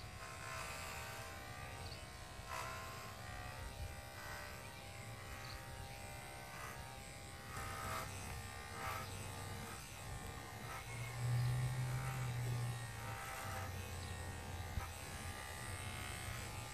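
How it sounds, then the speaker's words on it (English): Electric clippers shaving the back legs of a dairy cow, a steady close buzzing drone that holds throughout with slight shifts in pitch as the blade moves. "Now on her back end here, her back legs, I'm also going to shave down."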